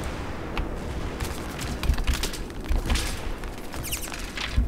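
Gunfire in Battlefield 3, scattered sharp shots and distant crackling volleys popping over a steady noisy battlefield bed, moderately loud with no talking.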